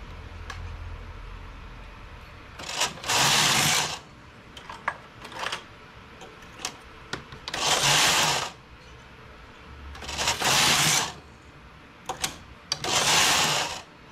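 A knitting machine works a simple sport collar, its carriage sweeping across in four loud rasping passes separated by quieter clicks and handling noises, with no talking.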